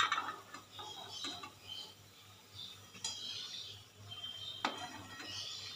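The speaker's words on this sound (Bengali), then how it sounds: "এবার এগুলো আমি একে একে তুলে নেব" Fried semolina snacks are lifted from a pan one by one, making faint metallic clinks and scrapes of a utensil at irregular intervals against quiet background noise.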